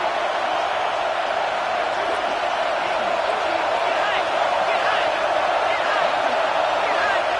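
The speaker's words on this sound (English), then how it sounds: "Here comes his home crowd as the defense tries to get off the field on 3rd down." Home crowd roaring steadily through a football game in Tennessee, a dense, loud wash of cheering that holds without a break, with no clear talk on top.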